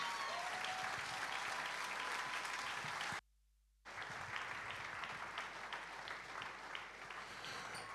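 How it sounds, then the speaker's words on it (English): A crowd claps steadily and loudly, broken by a brief silent gap before the applause resumes and continues. "Thank you for the applause."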